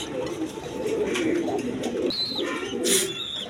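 Big, high-quality pigeons at a seller's stall give soft, repeated coos that swell and fade, with a brief higher chirp near the end.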